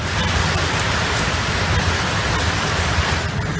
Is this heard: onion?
no